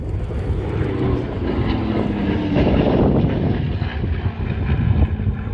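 Propeller aircraft at the Temora Aviation Museum airshow fly past, a steady loud drone that swells toward the middle and stays up with some wind noise, no voices.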